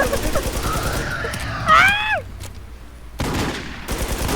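Gunfire in Infestation, a few close sharp bursts over game noise, with a rising whine in the middle and a brief quiet gap before the noise returns.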